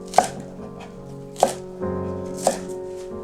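A knife chops green onions on a cutting board while preparing Korean fish stew. Three crisp, evenly spaced chops sound close up over a steady low background hum.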